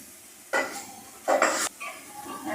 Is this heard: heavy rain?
no